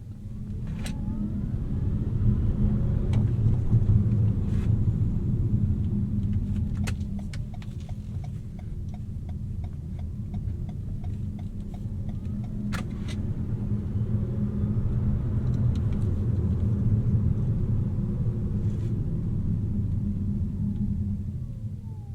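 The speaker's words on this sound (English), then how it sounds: "give you guys a better sound of what this electric motor sounds like" An electric car drives along with its motor running and the air conditioning switched off, giving a steady low rumble with a faint whine over road noise, continuous throughout with small surges.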